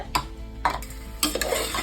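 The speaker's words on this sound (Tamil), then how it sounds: "கொஞ்ச நேரம் இதை வதக்கிக்கலாம்" Mutton sizzles in a pot as a spoon stirs it, with a few scraping clatters of metal against the pot at irregular intervals.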